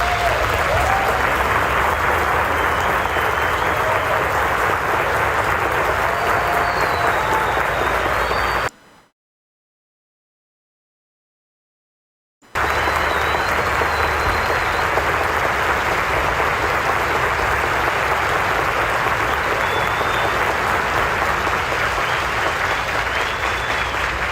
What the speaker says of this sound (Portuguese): peço aos senhores formandos, senhoras formandas, que com vigor aplaudam as suas famílias nesse momento